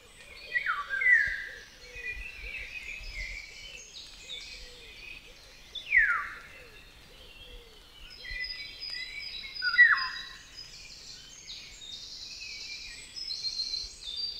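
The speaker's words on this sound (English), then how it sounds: "Now, listen to the birds again." Several birds sing outdoors in a quiet landscape, scattered chirps and sweeping whistled phrases coming and going at moderate distance with soft pauses between.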